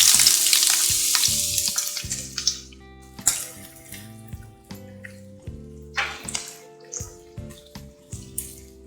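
Chopped medium onions frying in hot oil for a homemade mushroom masala, a steady close sizzle with repeated scraping and stirring clatters of a utensil against the pan.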